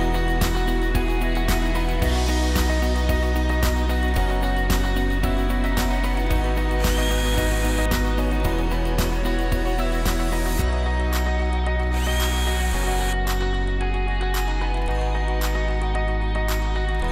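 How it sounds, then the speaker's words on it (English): A power driver tightens screws on the housing cover of a stainless steel C-face boat lift motor, in a series of loud, close whirring bursts with short pauses and clicks between them. "Tighten all screws securely."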